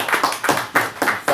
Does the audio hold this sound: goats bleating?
no